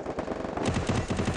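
Rapid automatic gunfire in a competitive shooter video game, a loud, close string of evenly spaced shots with a heavier, denser burst in the second half.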